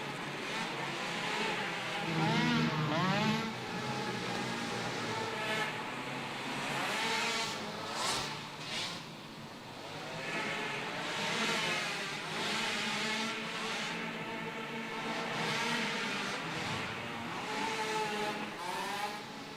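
Youth ATVs racing around a dirt track inside a barn, engines buzzing and revving continuously as several machines circle together, steady and loud throughout with rises and dips in pitch.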